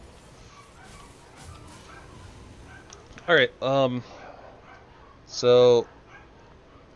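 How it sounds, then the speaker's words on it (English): Dogs barking loudly nearby in a room: a sharp double bark, then a longer, stronger bark a couple of seconds later, over faint background noise while a person talks. "the dogs are going crazy anyways"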